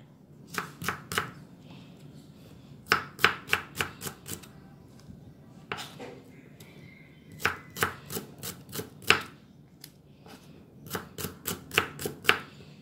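A knife finely chops two chili peppers on a cutting board in quick bursts of sharp, close taps, with several short pauses between the runs of strokes.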